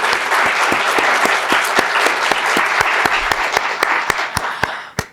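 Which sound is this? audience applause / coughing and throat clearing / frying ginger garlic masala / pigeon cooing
audience applause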